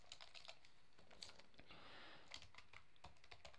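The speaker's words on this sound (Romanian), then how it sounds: "Ați văzut când am apăsat tasta Enter" Fingers type quickly on a computer keyboard, a close, faint run of clicky keystrokes with a short pause and a firmer press of the Enter key among them.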